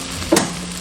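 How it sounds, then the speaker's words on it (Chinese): Okra stir-fried over high heat with foamy salted egg yolk, a brief burst of sizzle and a spatula scrape rising out of a low steady hiss, close by and short. "大火翻炒1分钟， 然后加入蛋白，翻炒均匀。"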